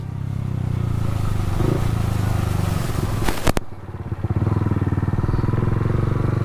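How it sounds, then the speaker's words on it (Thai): A motorcycle engine drones steadily, then a sharp throttle blip and brief stutter mark a gear change made without the clutch, before the engine settles back into a steady pulsing run, close and fairly loud. "สับคันเร่ง พร้อมกับเปลี่ยนเกียร์นะ"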